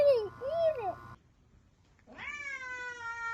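A cat gives a few quick rising-and-falling meows, falls silent for about a second, then lets out one longer, drawn-out meow. The calls are close and clear over a faint low background.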